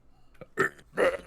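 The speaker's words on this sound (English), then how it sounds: "He had to create the burp." A loud, close burp on a podcast, with a short lead-in of smaller throat sounds before one strong belch and a brief tail, heard alone with no talking.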